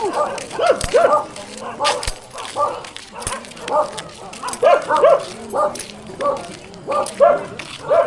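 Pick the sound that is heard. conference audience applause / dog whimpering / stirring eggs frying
dog whimpering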